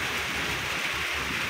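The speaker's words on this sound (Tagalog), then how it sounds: "Dahil tayo inabutan na naman ng ulan" Steady rain falls as a dense, even hiss with soft patter, heard alone and fairly close throughout without any voices.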